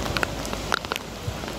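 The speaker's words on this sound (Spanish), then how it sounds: "se largó a llover con todo" Heavy rain at Iguazú Falls, Argentina, patters on a surface with scattered drops and splashes, fairly quiet and steady, with no talking.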